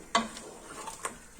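A few light stirring scrapes and a soft sizzle as a spice mixture is roasted in a pan for daal moong and beef qeema, quiet and close with brief clinks.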